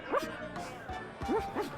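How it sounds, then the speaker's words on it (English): A dog in the video game The Secret of Monkey Island gives a few short, high yipping barks in two quick bursts, close and clear against a soft background. "What's up, dog?"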